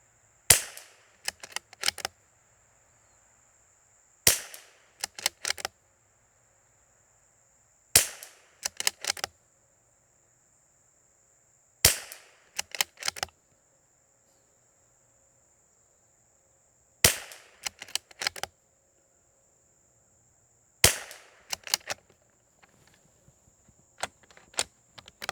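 Six sharp .22LR competition rifle shots crack at steady intervals several seconds apart, each followed by quick clicks of the bolt being cycled, outdoors with quiet gaps between.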